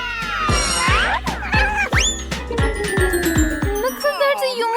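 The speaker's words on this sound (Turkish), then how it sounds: "Ah sen kedicik hadi git buradan koş" A cat meows several times in a kitchen cooking challenge, with rising and falling cries over a run of regular thuds and bright chiming tones, while a voice talks briefly.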